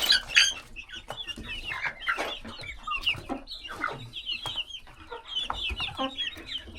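Several chickens in a coop cluck and chatter continuously at close range, a busy overlapping flock with occasional sharper calls.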